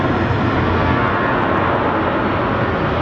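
Airliner at Phoenix Sky Harbor airport producing a steady, loud broadband engine roar that holds constant throughout, with no talk over it.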